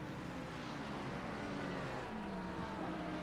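Race car engines drone steadily in a sim racing game at the Paul Ricard circuit, a continuous close roar with subtle pitch shifts as the cars run nose to tail.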